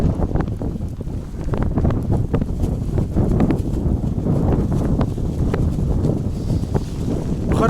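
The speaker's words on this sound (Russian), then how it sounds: "Еще ветер сильный, руки отмерзают." Strong wind at 4600 metres altitude near a mountain lagoon buffets the microphone with a loud, continuous rough roar and gusty thumps, steady throughout.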